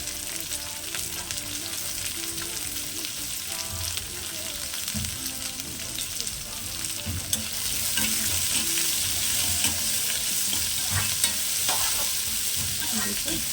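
Onions fry in hot oil with curry leaves and green chillies for upma, giving a continuous close sizzle and crackle. Occasional stirring scrapes come through, and the frying grows slightly louder partway through.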